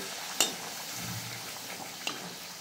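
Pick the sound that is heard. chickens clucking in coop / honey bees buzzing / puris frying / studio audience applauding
puris frying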